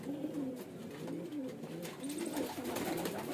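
Several pigeons kept at home coo steadily nearby, overlapping low rolling calls repeating in waves, with faint background noise and no talk.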